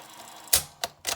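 Vintage Sharp GF-6000 radio cassette player rewinding a tape: a low steady whir under faint hiss, then three sharp mechanical clacks and bursts close by.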